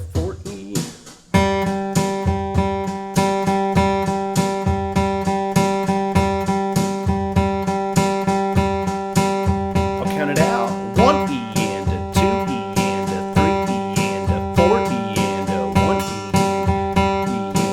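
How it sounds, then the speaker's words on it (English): Flatpicked guitar plays steady 16th-note runs over a brushed snare train beat drum track, with a quick intro hit and then an even, continuous groove, close and clear, with no talking. "I'm going to play this picking idea here along with a train beat"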